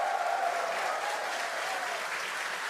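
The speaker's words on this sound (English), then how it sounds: "The crowd here in Hawthorne all went ooh at that first view of the blue flames from the booster." A crowd in Hawthorne watching a Starship launch broadcast gives a brief, faint, steady wash of murmured reaction, heard from a distance.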